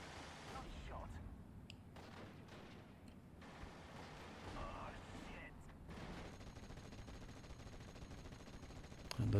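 Battlefield gunfire from Steel Division: Normandy 44, with a rifle squad and a Honey Stuart tank firing on a half-track near an orchard; dense, continuous crackle of shots and distant rumbling under a voice talking throughout.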